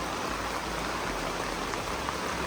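Steady rain falls throughout, a continuous dense hiss of drops with no pauses and no voices.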